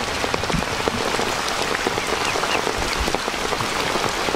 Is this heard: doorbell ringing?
no